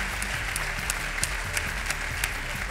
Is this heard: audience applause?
yes